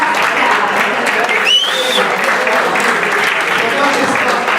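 Audience applause at a football club's senior awards night: a steady wash of clapping with a short rising whistle over it and some crowd noise mixed in.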